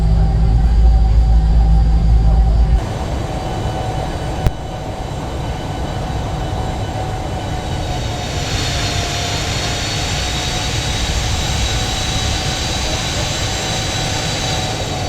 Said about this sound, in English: taxiing along to the runway